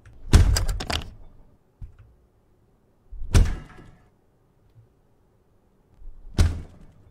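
In a horror video game, a door bangs three times at spaced intervals. Each hit is a heavy, close thud with rattling decay, and a faint tap sounds between the hits.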